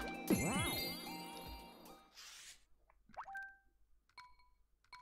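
Bell power-up jingle in the Super Mario 3D World video game, a bright cluster of chiming tones and springy sweeps, then a soft whoosh and a few sparse tinkling dings that fade out quietly.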